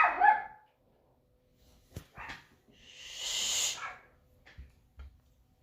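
Pet dogs bark indoors in a few scattered bursts, some sharp and some softer, set apart by quiet gaps and heard at a moderate distance.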